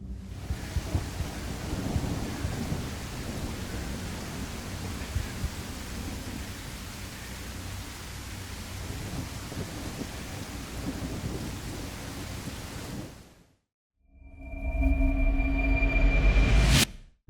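Steady heavy acid rain with rolling thunder rumbles in a video game, then a brief silence before a louder burst of rain and a rising tonal whine.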